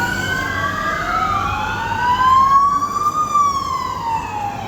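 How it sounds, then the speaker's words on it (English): Police sirens wail along a street in Benidorm, several overlapping rising and falling tones sweeping loudly over steady traffic rumble, with no talking. "The police sirens."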